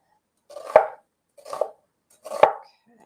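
A knife chops through an onion in three separate, crisp strokes about a second apart, each a sharp close thud on the cutting board with silence between.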